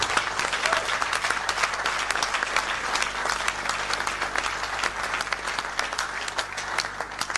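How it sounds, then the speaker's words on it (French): Sustained audience applause at an award ceremony, a dense crackle of many hands clapping at an even level throughout with no speech. "Mais applaudissez fortement Paul Ella et tout son staff"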